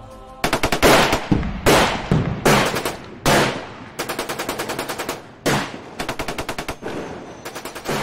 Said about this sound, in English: Able troops came under intense machine gun and mortar fire from battle-hardened German paratroopers.